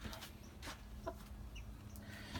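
Hens and a rooster cluck softly around a feeder, with short scattered clucks over a quiet background.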